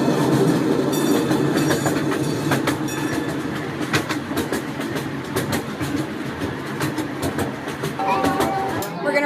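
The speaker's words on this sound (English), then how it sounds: "We're riding the train, buddy" A small zoo train rolls along with continuous rumbling and rhythmic clickety-clack of wheels on track, loud and close, while a parent and child chatter over it and a brief squeal rises near the end.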